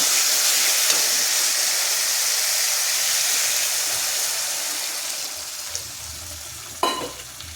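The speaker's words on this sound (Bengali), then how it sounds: "ঝোল ফুটে গেছে আলুও নরম হয়ে গেছে" Fish curry gravy with potatoes bubbling in a pan, a steady broad hiss and sizzle that slowly fades, with a small clatter near the end and no voices.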